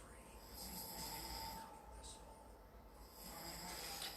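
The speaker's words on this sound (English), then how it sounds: "I'm distracted by his snoring in the background" A man snoring in the background, faint and low, with drawn-out raspy breaths that rise, fade and return across a quiet room.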